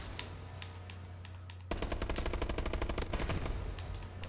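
Rapid automatic gunfire rings out in a video game: faint scattered shots first, then a loud, dense burst of fast repeated rounds that holds to the end.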